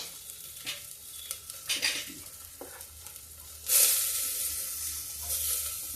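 Onions with ginger sizzle and fry in a pan while being stirred, with scraping strokes and a louder burst of hiss midway, close up and without speech.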